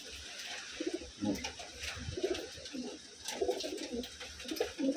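Wantai pigeons from Taiwan coo softly in repeated throaty phrases amid faint background noise and occasional soft rustling.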